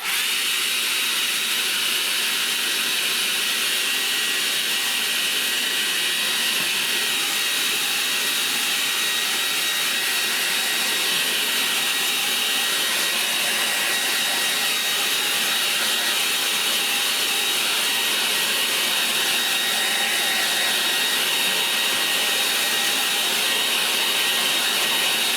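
A hair dryer blows on a paper artwork, a loud, steady whirring rush of air that holds unchanged for the whole stretch.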